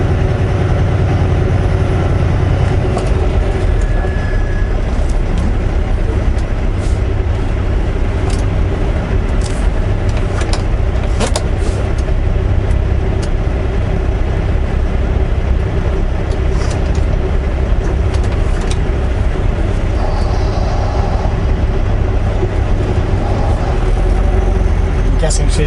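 A heavy truck put in gear and crawling forward at about three miles per hour at a transportation department checkpoint, its engine rumbling steadily and loud throughout.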